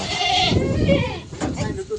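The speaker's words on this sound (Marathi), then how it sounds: "वरडायला लागले शेळ्या" Goats bleat loudly close by near a large tempo truck, several overlapping calls mixed with people talking.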